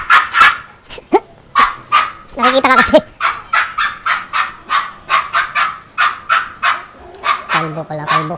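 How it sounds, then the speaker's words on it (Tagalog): Dog barking repeatedly in steady bursts throughout, close and loud, with some whimpering yips mixed in, while people talk at the same time. "Parang hindi gaano maingay ang aso"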